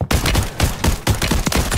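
Rapid, loud gunfire from a Call of Duty: Warzone match on Rebirth Island rattles in close bursts of repeated shots with short gaps, with no talking.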